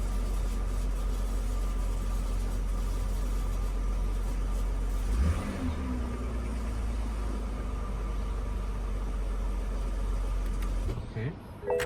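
A car with a push-button start, just repaired after a fuel pump fault, idles steadily with a low engine hum close by, a brief revving swell midway and a shift near the end.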